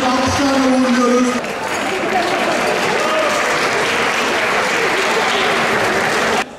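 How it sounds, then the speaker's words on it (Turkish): Crowd applause at a Fethiye Sporfest cycling festival during the Likya Granfondo race, loud sustained clapping with a voice over a loudspeaker at the start, continuing steadily before cutting off. "Çok teşekkür ediyoruz, alkışlarla uğurluyoruz."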